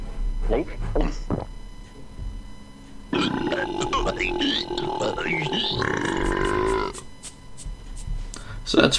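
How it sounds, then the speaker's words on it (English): A clay character in The Neverhood lets out a long, drawn-out cartoonish burp, rumbling and gurgling for several seconds, with short grunting bits before it and scattered noises after. "he burped"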